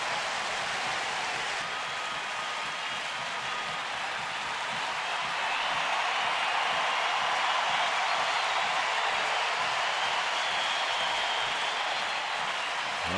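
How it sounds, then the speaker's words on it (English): A sellout Friday night baseball crowd at Progressive Field in Cleveland, a steady broad roar of murmur and cheering that swells slightly midway and fills the whole stretch without a break. "A Friday night sellout crowd here at Progressive Field."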